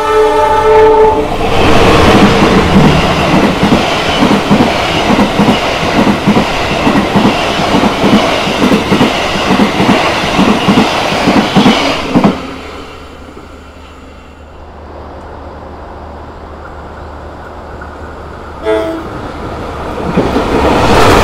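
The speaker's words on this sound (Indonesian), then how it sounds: "saya itu naik kereta api Probowangi" The Probowangi passenger train at Pasuruan station in Indonesia rumbles past loud and close with rhythmic wheel clatter and a sustained horn blast, then the noise drops away to quiet station ambience, with a short horn-like tone near the end.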